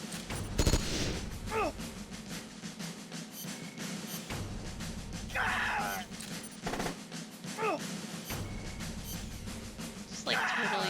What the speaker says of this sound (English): Guy's trying to shoot my tank.